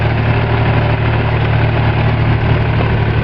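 A tractor engine idles on a farm, a loud, close, steady low rumble with constant vibration and no speech.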